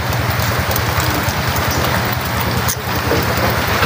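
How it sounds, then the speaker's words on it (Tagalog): Heavy rain falls during a storm at a small farm in the Philippines, a dense, steady downpour drumming on surfaces, loud and continuous, with one brief dip. "Umuulan na naman."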